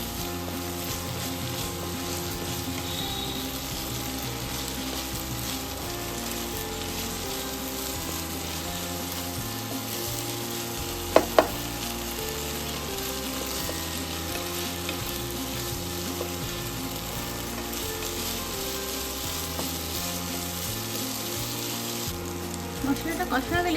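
Spices with salt and ginger paste sizzle and fry steadily in oil in a pan while Bengali tel koi is cooked, under continuous background music, with a brief clatter near the middle.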